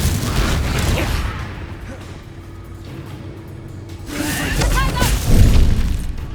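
The Confringo fire spell exploding in Hogwarts Legacy, a blast with crackling debris and magical shimmer following a shouted incantation amid rumbling game sounds.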